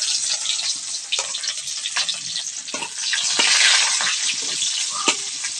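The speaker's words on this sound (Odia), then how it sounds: "ପିଆଜ ଟିକେ ଲାଲ ହେଲା ପର୍ଯ୍ୟନ୍ତ ଭାଜିବି।" Onions frying in a pan with bay leaf, cinnamon and cardamom, a steady close hiss and sizzle with occasional stirring scrapes and no talk.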